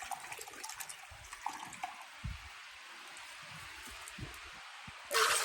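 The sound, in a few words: vinegar being poured into a measuring cup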